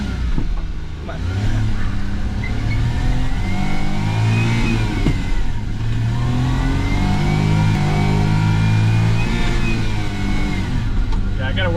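A Suzuki Carry mini truck engine with a sticky throttle cable revs hard and close in repeated rising and falling surges that run nearly twelve seconds, loud throughout, with a voice speaking over it.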